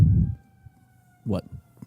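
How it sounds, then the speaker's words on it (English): A faint, steady siren wails in the distance under background noise, with low voices or rumbling nearby at the start and middle. "if you guys hear sirens in the background"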